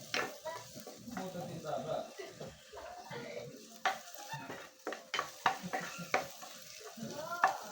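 Garlic and onion sauté in a pan over a butane burner, giving a soft steady sizzle broken by scraping stirs and clinks of a utensil against the pan, with a voice talking over the cooking.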